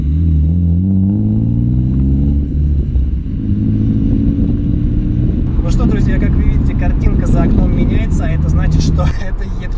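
An old BMW E36 drives along with a steady, low engine drone and road rumble heard from inside the car, while people talk over it throughout.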